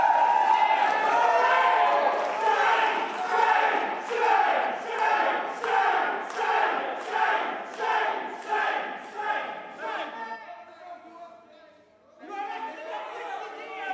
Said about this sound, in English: Some cheering.